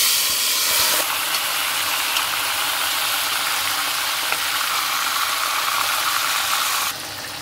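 Chicken pieces for Jamaican brown stew go into a hot pot with a loud, steady sizzle and hiss of frying that continues close up throughout and drops slightly at the end.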